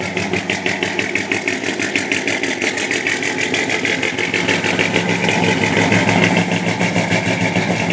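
A 1966 Chevy K20 truck's large old engine idles with a steady, loping rumble and rhythmic exhaust pulses exiting behind the rear wheel, loud and close, running continuously with no voices.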